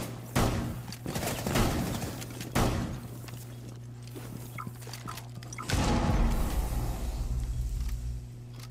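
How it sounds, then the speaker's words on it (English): Gunfire in the video game Rainbow Six Siege, heard as a few loud bursts of shots and thumps spread across the clip over a steady low background hum, with no talking. "I accidentally shot my teammate."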